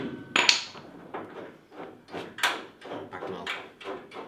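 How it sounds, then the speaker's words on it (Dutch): A hammer striking bodywork on a Subaru Impreza STi in a garage, a string of irregular close knocks and bangs, some louder and sharper than others, with no talk. "Een beetje eng om met de hamer te gaan rammen."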